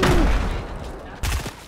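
Grenade thrown and exploding in the Fortnite video game: a loud, low blast opens, then fades into a rumbling tail, with a second burst of noise near the end. No talk is heard over it.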